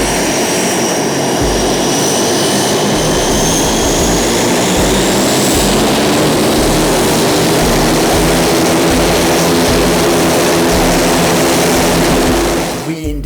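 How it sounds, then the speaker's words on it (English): An airplane at an airport blasts its engine up close, a loud, roaring jet-and-propeller wash with a steady high whine on top, sustained throughout before easing slightly at the end. "This plane blasting its engine."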